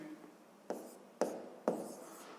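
Pen strokes scratch across paper while a sixth-grade math solution is written down: three quick, distinct marks spaced about half a second apart, close and quiet.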